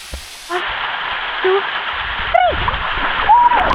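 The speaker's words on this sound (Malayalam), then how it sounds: "ആ കാണുന്നതാണ് ഏറ്റവും ടോപ്പിലുള്ള വെള്ളച്ചാട്ടം എന്ന് പറയുന്നത്" A continuous rushing roar of a waterfall in Kerala fills the scene, with a few brief tonal calls or voices rising above it.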